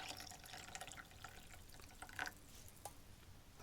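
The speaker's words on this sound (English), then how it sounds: "So we're going to add some more water to that." Water poured into a rehydrating food bag holding a Norwegian cod in creamy curry sauce ration; a faint, close trickle with small drips and splashes, no talk.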